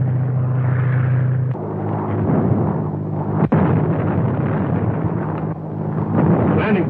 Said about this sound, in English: Landing tear gas bombs all around them